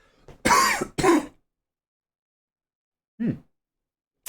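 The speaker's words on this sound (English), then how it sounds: "I'm going to have a proper cough" A man deliberately coughs before recording: two sharp, loud coughs close to the microphone, then silence, a short throat-clearing sound, and a faint click at the end.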